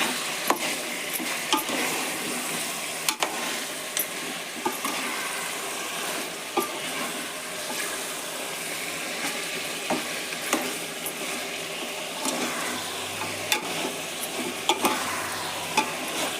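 Chicken gravy ingredients fry in hot oil while being stirred, a continuous close sizzle broken by regular scraping and clinking of a spoon against the pan, with no talking.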